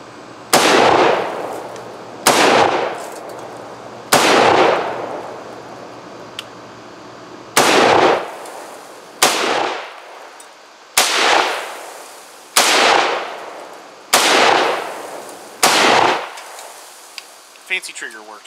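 A Beretta BM59 rifle fires at an outdoor range, about ten sharp, loud, close shots in an uneven rhythm, each echoing and decaying before the next.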